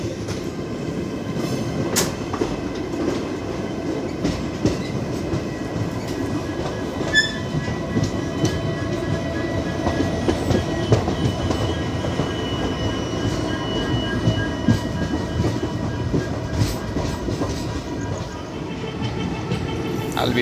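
The Mangaluru Vijayapura Express runs through Hubli with a steady, continuous rumble of rolling carriages, scattered clicks and brief wheel squeals, and faint voices now and then beneath the rail noise.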